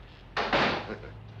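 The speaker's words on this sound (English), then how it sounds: "Close the door." An office door swings shut with a single firm thud followed by a short rattling settle, close and fairly loud; a voice can be heard faintly in the room.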